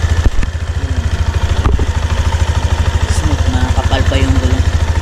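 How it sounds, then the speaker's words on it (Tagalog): A Yamaha NMAX motor scooter idles close by with a rapid, even exhaust putter, while voices talk faintly over it. "Ang tambutso. Maganda yung tunog niya."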